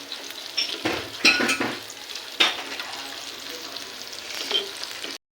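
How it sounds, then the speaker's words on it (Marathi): Fish frying in a pan gives a constant bright sizzle, with a few clinks and scraping utensil touches as the pieces are turned to cook the other side, close and fairly loud before stopping abruptly. "मच्छी एका साईडने फ्राय झालेली आहे, दुसरी साईड पण फ्राय करून घेऊ."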